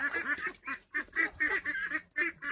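Ducks being herded give loud, repeated nasal honking quacks in quick, overlapping bursts, close by and with no talking.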